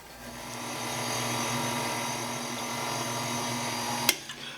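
An electric hand mixer beats pumpkin bread batter in a bowl, a steady loud motor whir running throughout with no talk, ending in a sharp knock near the end.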